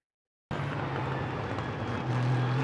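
GT3 race car engine in the iRacing sim at Canadian Tire Motorsport Park, starting abruptly after silence and droning loud and steady, its tone stepping up slightly near the end.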